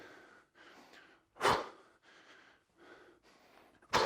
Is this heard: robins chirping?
no